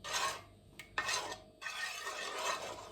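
A spoon stirring majablanca mixture in a pot, giving a steady, faint rasping scrape broken by a couple of short pauses.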